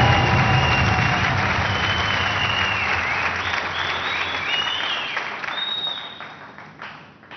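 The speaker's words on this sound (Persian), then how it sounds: "تشویقشان کنید" A studio audience on a TV quiz show claps in sustained, dense applause that gradually thins and fades toward the end, with a few scattered whistles or cheers.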